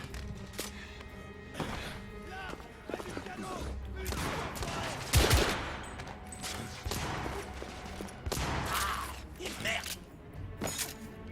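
Rapid machine gun bursts and heavy gunfire in the Victorian-era shooter game The Order: 1886, loud and dense with thuds and a big blast near the middle, sounding over an excited speaker's exclamations.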